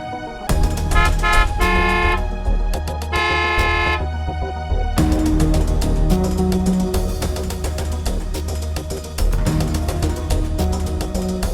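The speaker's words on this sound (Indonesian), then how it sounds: "Dari tadi klakson sama ngasih dim" Car horns honk repeatedly and insistently, short blasts and longer held tones stacking over steady engine and traffic noise, loud and close.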